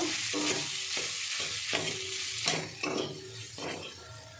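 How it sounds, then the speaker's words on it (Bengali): Boiled, mashed figs are stirred into a spice mixture in a wok, with a repeated scraping stir every half second or so over a soft, continuous sizzle, close and with no voices. "এর মধ্যে আমি এই যে আগে থেকে বেটে রাখা সিদ্ধ করা ডুমুরটা দিয়ে দেব।"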